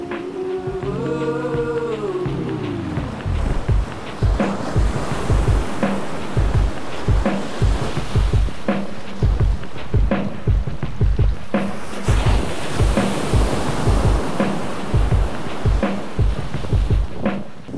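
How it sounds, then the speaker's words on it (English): Ocean waves and surf wash in close and loud, with heavy wind buffeting and rhythmic splashing surges throughout. "gotta get in the ocean"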